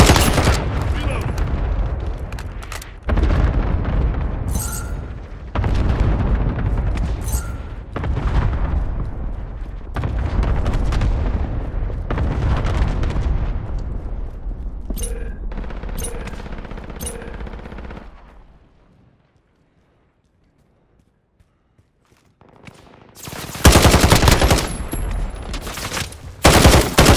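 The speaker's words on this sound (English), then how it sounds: "Enemy cluster strike." Cluster strike explosions and bursts of gunfire in Call of Duty Modern Warfare roll on loudly for about eighteen seconds, drop to near silence, then return with another heavy blast.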